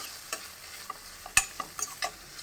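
Dried shrimp fry in oil with onions for a raw banana curry. The quiet sizzle is broken by sparse, sharp ladle clicks and scrapes spaced irregularly, with no talking.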